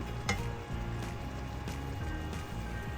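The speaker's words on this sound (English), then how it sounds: "We're going to want to stir it to get anything that's on the bottom away from the pot back into the food." Fettuccine in mushroom sauce stirred in a pot with a wooden spoon, soft scraping and bubbling sizzle at low level, steady with a few small knocks, no voices.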